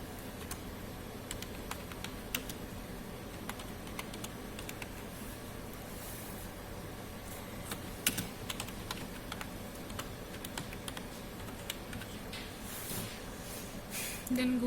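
Typing a sample name on a computer keyboard beside a spectrophotometer in a lab, with quiet, irregular key clicks over a steady background hum.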